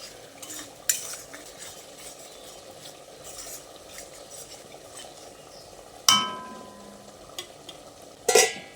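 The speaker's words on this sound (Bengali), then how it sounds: "তারপর সব কিছু একসঙ্গে ভালোভাবে নেড়ে চেড়ে একটু কষিয়ে নিতে হবে।" Mustard and poppy seed paste masala is stirred and sautéed in a pan for a drumstick recipe, a steady soft sizzle under scraping spoon strokes with two sharp louder clinks of metal on the pan.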